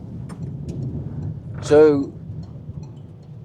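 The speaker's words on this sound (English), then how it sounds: "the van's driving perfect, got plenty of power, it's getting up to speed" A Citroen van with a DPF at 145k miles on a test drive, its steady low engine and road rumble running throughout while someone speaks briefly over it.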